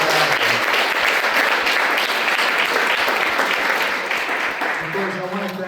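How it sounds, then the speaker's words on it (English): Large audience at a food systems report launch event giving sustained, loud, dense applause that fades slightly toward the end, with a voice emerging over the last second. "let's just give all of those who contributed to this report a big round of applause."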